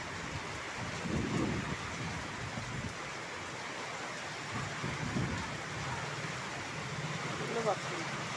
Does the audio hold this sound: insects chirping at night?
no